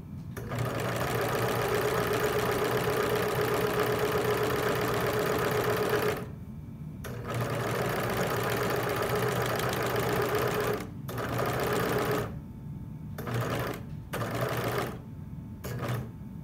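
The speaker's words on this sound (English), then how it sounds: "we're going to serge it so this end doesn't fray or anything" Serger overlocking the edge of sundress fabric, a fast steady mechanical whir close by, running in long stretches broken by several brief pauses and short restarts.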